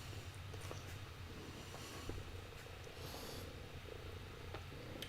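A cat purrs close by in a steady, low, continuous rumble that runs unbroken for about five seconds. Faint room sounds sit underneath, and no one speaks.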